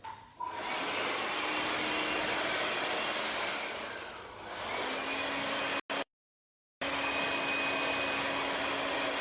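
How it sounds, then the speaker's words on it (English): Hair dryer blow drying the hair on a mannequin head at full heat and full blast, a loud steady whoosh that cuts off briefly twice, then resumes. "I'm going to blow dry this."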